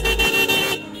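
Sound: vehicle horn sounded by a horn seller on a scooter

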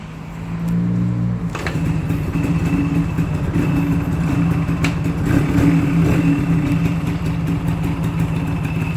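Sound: Yamaha Speed Mx scooter engine started and running

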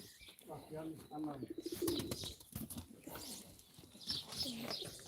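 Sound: pigeons cooing at a pigeon auction

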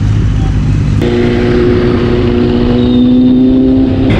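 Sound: motorcycle being ridden through Vizag

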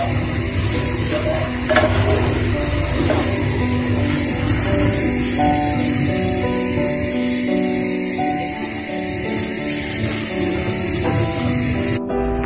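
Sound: stirring black gram dal in a pot

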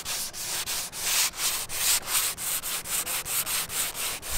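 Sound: sanding painted wood

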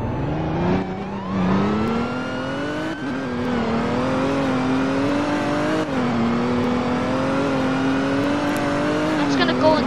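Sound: Chevy Impala car engine revving in a video game

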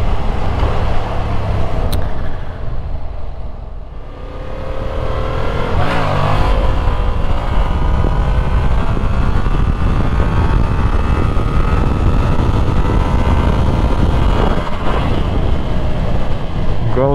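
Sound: Yamaha MT-07 motorcycle riding on road

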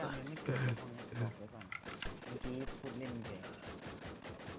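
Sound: gunfire in the WarZ video game

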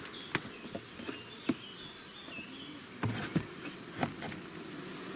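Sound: bees buzzing at beehive

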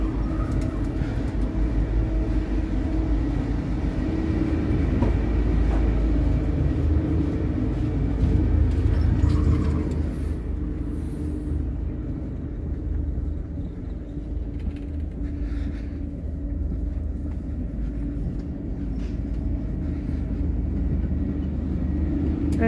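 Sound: Metropolitan train pulled by German intercity locomotive, riding

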